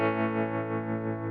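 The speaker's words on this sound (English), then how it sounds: "It's just in and out, nice wavy sound." MayFly Terrain Deluxe tremolo pedal on its sine wave setting, a sustained guitar chord swelling smoothly up and down in volume in a gentle, even pulse, loud and close with no talking.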